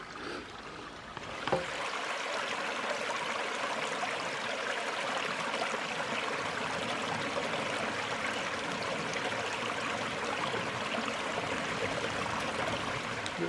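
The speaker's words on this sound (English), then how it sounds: "this creek is pretty full after a hard rain." Full creek in Bankhead National Forest, Alabama, rushing after a hard rain, a steady broadband roar of running water close by that fills the whole stretch without a break.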